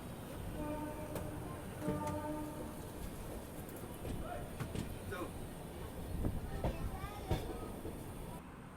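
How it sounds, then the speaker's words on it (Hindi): A passenger train pulls slowly out of Dalmau Junction toward Unnao, with a steady low rumble and occasional wheel clicks and squeals heard from on board, continuous and moderately loud. "अपनी ट्रेन धीरे धीरे बढ़ रही है उन्नाव की तरफ।"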